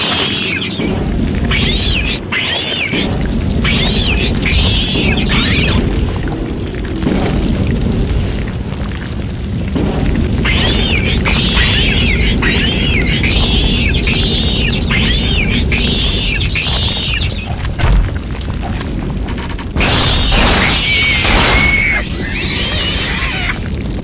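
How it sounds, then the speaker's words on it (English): Grenade launcher in the game Cold Fear, fired again and again with deep booming blasts under steady low rumble, while bird-like chirps repeat high above and a louder burst lands near the end. "I love how I keep snap firing the grenade launcher thinking it's a pistol"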